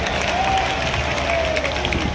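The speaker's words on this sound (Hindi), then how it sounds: "सब लोग ताली बजाकर अभिनंदन करें" A large outdoor election rally crowd in Tijara, Rajasthan claps steadily in welcome, a dense continuous wash of applause with faint cheering and no clear pauses.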